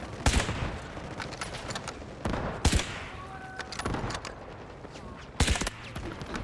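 Sniper rifle fire in the video game Delta Force Hawk Ops: a few sharp, loud shots spaced seconds apart, each with a short tail over quieter in-game background noise.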